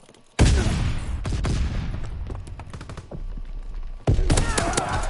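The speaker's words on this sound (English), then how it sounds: "Throwing stun grenade!" A stun grenade bursts amid rapid WW2 video game gunfire: a sharp blast, then sustained close shooting with a second loud burst near the end, and faint voices underneath.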